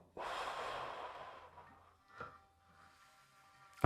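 During a guided meditation, a person draws one long, deep breath in through the nose, followed by a softer exhale and faint breathy sounds, close and quiet with a sharp click at the end.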